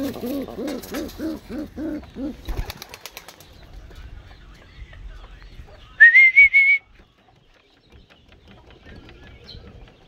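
Pigeons give soft, repeated throaty coos in a steady rhythm, followed by a brief burst of wing flapping and then a thin whistled note, with quiet stretches between.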